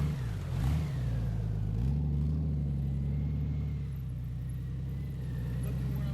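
A Honda Goldwing DCT motorcycle engine hums steadily and rises slightly as throttle is applied during slow, tight-turn riding, a continuous low drone throughout with a brief surge early on.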